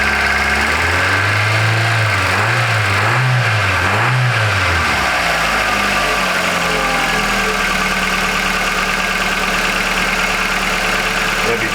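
Hyundai Accent engine running after a water pump and bearing replacement, a loud steady drone that surges in a few quick revs early on, then settles into a continuous idle-like hum with a rattly mechanical edge.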